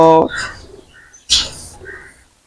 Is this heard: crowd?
no